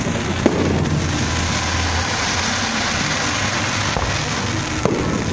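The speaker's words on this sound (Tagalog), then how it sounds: "Guys, may fireworks ngayon." Fireworks burst over Enchanted Kingdom theme park during a family day, a few sharp distant bangs rising above a continuous crackling rumble of the display.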